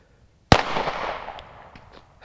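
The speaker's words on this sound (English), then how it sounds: "But we're gonna shoot it 10 more times, see what's left of it." A single loud rifle shot slams into a ceramic body armor plate, a sharp close crack with a ringing, slowly decaying tail and a few faint rattles afterward.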